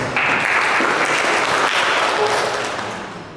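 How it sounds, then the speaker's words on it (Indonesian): Audience applause at the opening of a library accreditation workshop in Manokwari, West Papua: steady, dense clapping from a sizable indoor crowd, holding for about three seconds before tapering slightly at the end. "Mari kita berikan aplaus."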